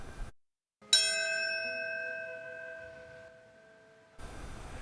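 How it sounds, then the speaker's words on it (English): A single bell tolls once at a 9/11 commemoration ceremony in Naperville, Illinois: one clear, ringing strike that hums and fades slowly over several seconds in near silence. "A single bell tolled to begin 9/11 commemorations"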